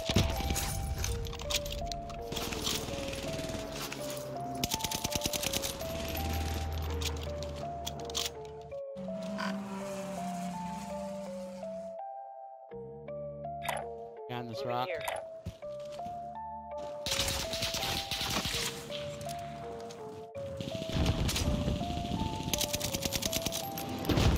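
Rapid SMG fire in a video game shooter, bursts of shots repeating under music and voices, loud and close, with players talking over the action.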